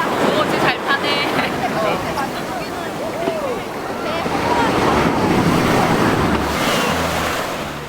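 Surf rolls in at Songjeong Beach in Busan, a broad, continuous wash of breaking waves with heavy wind buffeting the microphone and a voice narrating over the roar.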